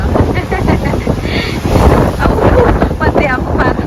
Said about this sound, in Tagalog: Grabe si hangin, no?